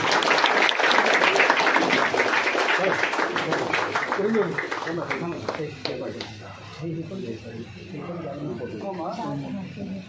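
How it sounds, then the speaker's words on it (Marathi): Audience clapping at an award ceremony where police officers are called up to receive honours, strongest at first and then thinning, with voices and background talk mixed in. "सर्वांनी टाळ्या वाजवा"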